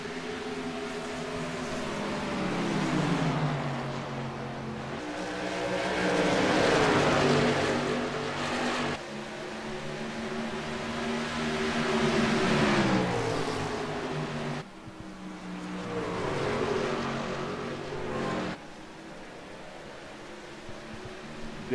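Race cars in a PC racing game rev and accelerate in long rising and falling engine sweeps, several cars droning loudly and continuously with gear-shift cuts between surges.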